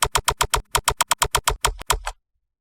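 Keys on a computer keyboard are pressed in a quick, steady run of about a dozen sharp clicks, a couple heavier taps near the end, then silence; played while testing a deliberately boring PC game.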